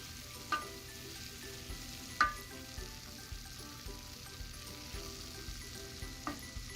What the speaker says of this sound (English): And now cook the mince for about 20 minutes.